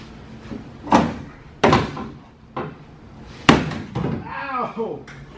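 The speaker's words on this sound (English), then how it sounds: "Let me kick it from underneath." A storage cabinet in a camper van build is kicked from underneath, giving four or five hard, hollow thumps at uneven intervals, with a person speaking between the impacts.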